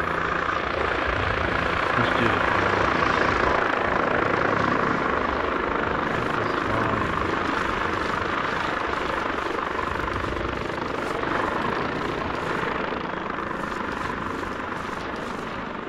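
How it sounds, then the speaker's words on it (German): A helicopter flies nearby with a steady, loud rotor and engine drone lasting throughout, while a voice speaks briefly over it. "die mögen den Helikopter nicht"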